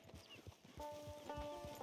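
A horse's hooves clip-clop in a steady trotting rhythm in the western video game Red Dead Online, faint and close-miked, joined partway through by a sustained musical tone.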